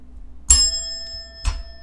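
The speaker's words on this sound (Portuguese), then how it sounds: "Sininho." Two small bell dings ring out during an online blitz chess stream, a bright, clear chime with a ringing tail, then a second ding about a second later, alone without talk.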